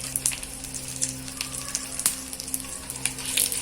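Garlic frying in a pan for a Malabar spinach stir-fry sizzles steadily and close by, a dense crackling hiss with scattered sharper pops throughout.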